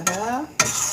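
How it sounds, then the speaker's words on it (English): Spaghetti sauce is stirred in a pan, giving two close scraping strokes of a utensil against the pan in about a second, moderately loud, with no talking. "Stir that up."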